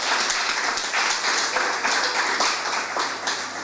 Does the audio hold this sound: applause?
yes